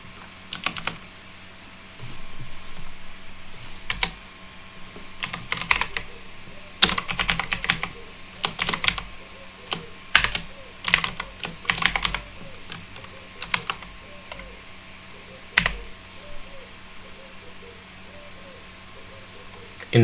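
Irregular bursts of keystrokes on a computer keyboard while coding, coming in quick clusters separated by pauses, over a faint steady background hum.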